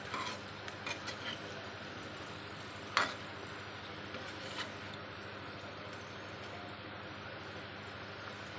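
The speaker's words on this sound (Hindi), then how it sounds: "पलटते हुए इसे हम पकाएंगे। आँच हमारा एकदम स्लो ही रहना चाहिए।" Mung dal kachori frying on a low flame, a steady soft sizzle of oil with faint crackles and one brief clatter near the middle, close and continuous with no talking.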